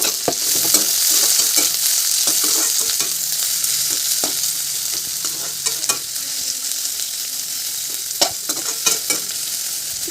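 Onions sizzle steadily in a small amount of hot oil in a pan, with frequent scraping stirs of a utensil cutting through the continuous frying hiss; no voices.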